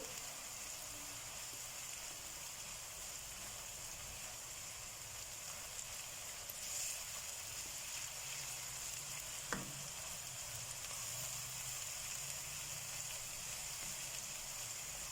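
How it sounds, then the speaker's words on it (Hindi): Garlic fries with sautéed onions in a pan, giving a faint, steady, even sizzle throughout with a soft background hiss, one brief sharp clink of a utensil partway through, and no voices. "अब मैं इसमें ऐड करूँगी लहसुन। लहसुन ऐड करने के बाद भी हम सिर्फ इसे 1 मिनट के लिए ही पकाएंगे।"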